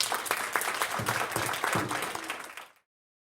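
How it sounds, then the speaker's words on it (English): Audience applause at a professional development event, a dense crowd clapping steadily for nearly three seconds before it cuts off abruptly. "Y'all give him a round of applause."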